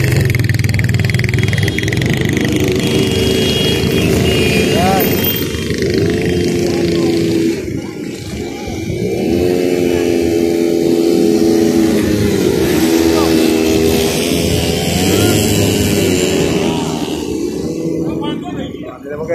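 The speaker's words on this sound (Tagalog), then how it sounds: "Ito mga motor" Motorcycles ride over the red sand dunes of Saudi Arabia, their engines droning and revving steadily throughout, mixed with nearby voices and crowd chatter.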